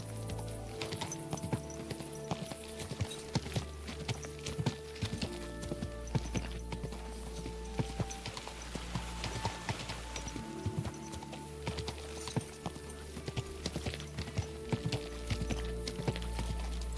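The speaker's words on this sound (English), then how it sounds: "Easy, good horse." Horse hooves clip-clop steadily at a walk on a path in Kingdom Come: Deliverance 2, a continuous close rhythm of hoof strikes over a low ambient bed, with no talk.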